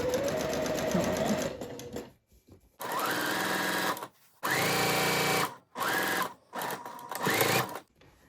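A sewing machine stitches stretchy fabric for reversible shorts with white thread in four or five separate runs of steady whirring, broken by short quiet pauses. The first run is rougher and mixed with handling noise.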